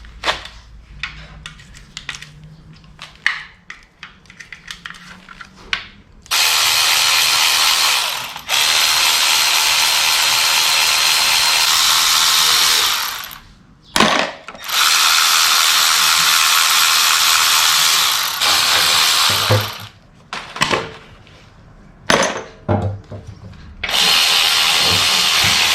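A ratchet undoes the 10mm sump bolts on a Nissan GU Patrol engine in loud, close, clicking bursts of several seconds each, separated by brief pauses.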